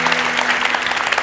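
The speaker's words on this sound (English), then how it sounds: "Give yourselves a round of applause" A TED talk audience applauding itself, a short burst of steady, loud, close crowd clapping with an even texture and no pauses.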